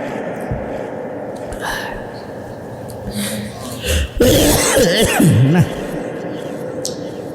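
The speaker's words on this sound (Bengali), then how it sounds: "কাশিটা তো বন্ধই হচ্ছে না," A man at a religious sermon gathering coughs several times in rough, throaty bursts, close to the microphone, amid murmured speech and a faint hall background.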